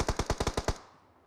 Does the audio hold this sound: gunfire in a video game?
yes